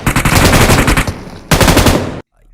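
Machine gun fire from a first-person shooter video game rips out in two loud, dense sustained bursts, separated by a brief gap and cut off abruptly at the end.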